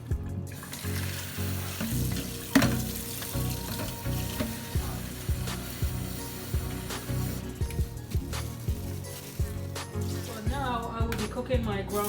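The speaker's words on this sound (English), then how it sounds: "Cooking my ground meat." Ground meat, about 2.5 pounds, fries in a pan for lasagna with a steady close sizzle, punctuated by stirring scrapes and a brief run of tap water, while a voice talks intermittently over the cooking.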